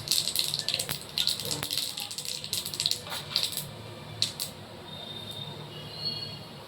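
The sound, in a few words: radhuni spice tempering sizzling in oil for pumpkin curry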